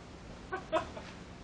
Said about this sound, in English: I know there's a chicken right here